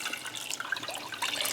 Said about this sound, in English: the remaining water to fill up, I'm going to be using from the kettle. So we're going to add this water in.